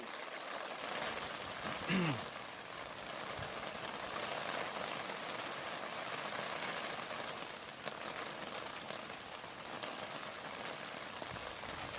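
Rain falls steadily on a garden pond with fish, a soft, even hiss of drops heard from beneath an umbrella, with a brief faint chirp near the start and no talking.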